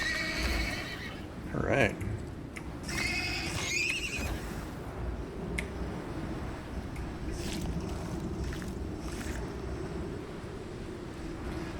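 A baby horse in the survival game Icarus lets out a brief, clear whinny early on over wind and water ambience, followed by faint hoof clops, and someone speaks briefly.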